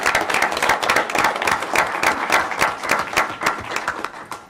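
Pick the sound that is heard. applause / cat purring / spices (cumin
applause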